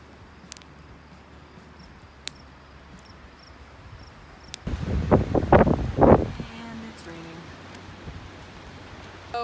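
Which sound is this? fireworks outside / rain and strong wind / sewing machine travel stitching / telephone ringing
rain and strong wind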